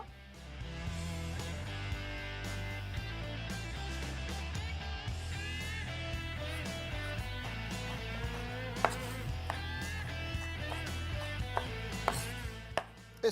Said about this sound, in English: When the sauté is on, we cut the ham.